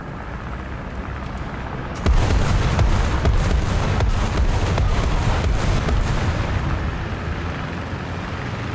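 Bombs going off near a T-44-122 tank in War Thunder, with a loud sudden blast that opens into a sustained roaring rumble of explosions and debris, heavy and close, fading slightly toward the end.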